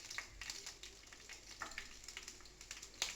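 Cumin seeds and dried red chillies frying in oil in a pan for beetroot chutney, giving a soft steady sizzle with small crackles and pops throughout, fairly quiet and without voices.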